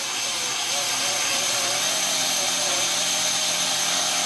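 A Kinkajou wet sander's DC motor runs continuously with a loud, steady high-pitched whine and buzz, close by and unbroken.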